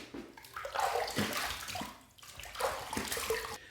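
Running water rinses a razor between shaving passes with a Derby shave stick, a close, steady splashing and sloshing stream rising and falling over a few seconds.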